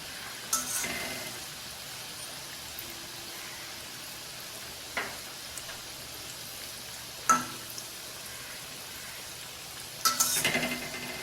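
Snake gourd rings fry in hot oil with a soft, continuous sizzle. Occasional sharp clinks and scrapes of a ladle or pan punctuate it, and no voices are heard.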